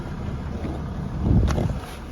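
Wind rushes past the microphone outdoors on a chilly, windy day beside a Ram 2500 Cummins diesel pickup, a steady low rumble that swells in a gust near the end, with no speech.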